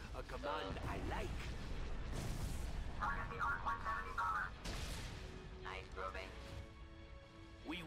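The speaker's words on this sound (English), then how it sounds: "they're really getting a lot of hyper velocity gunshots in there" Hyper velocity gunshots in a Star Wars video game, heavy booming blasts and crackling fire layered with battle noise, loud and repeated under a voice talking over the action.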